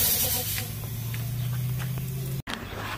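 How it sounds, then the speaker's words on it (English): Aerosol can spraying onto brake parts of a 2018 Dodge Charger during a pad and rotor job, a continuous loud hiss with a faint low hum beneath, broken by a brief pause near the end before resuming. "Again, he's spraying it there."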